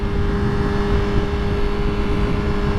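A Yamaha R6 motorcycle engine drones loudly and steadily while riding, a sustained mechanical hum mixed with rushing wind, close and unbroken throughout.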